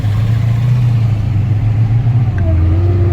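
A Dodge Charger SRT Hellcat engine with a blown motor rumbles loudly and steadily at a low idle, rising slightly in pitch near the end, with no voices.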